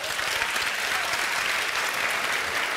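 A studio audience of women claps continuously, a dense, even, fairly loud burst of applause with faint crowd murmur and no clear speech.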